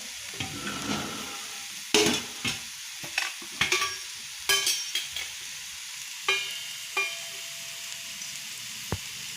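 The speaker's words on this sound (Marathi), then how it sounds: "हे परतून घेतले ह्याचा जरा कच्चापणा गेलाय" Snake gourd salad being sautéed in a pan, with repeated sharp stirring scrapes and clicks of a spatula over a faint low sizzle, loud and close, spaced irregularly with brief pauses.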